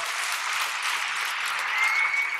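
A crowd applauds young children after a game in a selection of games, a loud, steady wash of clapping that stays even throughout with no talking heard.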